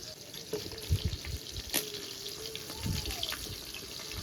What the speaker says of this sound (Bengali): এবার এটা ভালো করে জল দিয়ে ধুয়ে নেব